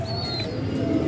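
A pigeon of the Jaith breed coos softly and steadily at close range over a busy low background hum, with no talking.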